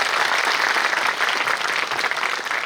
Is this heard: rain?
no